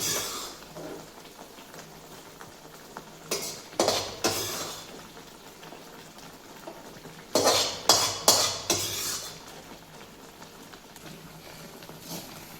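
A utensil mixes roasted wheat flour into sugar and coconut in a pan, making scraping and clattering bursts in two clusters with quieter rustling stirring between them, close and moderately loud.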